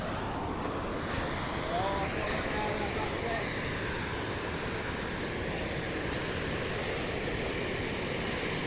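A waterfall in a Swedish national park, a dense steady rushing roar that fills the whole stretch without pause, close and loud, with some wind buffeting the microphone on a rainy hike.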